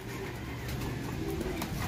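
A racing pigeon coos softly in a low, repeated murmur over a steady background hum, brief and close, during truck-release pigeon race training in Santo Tomas, Batangas.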